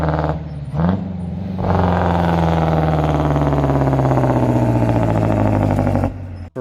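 A Detroit Diesel 8V71 engine gives a loud, sustained howl with a steady high-pitched mechanical whine, rising in at the start and cutting off abruptly near the end.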